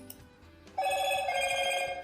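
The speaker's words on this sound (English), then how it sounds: "now this application is in background and still we are receiving this same notification" Android phone notification from Firebase Cloud Messaging, a short bright tonal chime that sounds suddenly after a quiet moment and rings on steadily, close and clear with no talk.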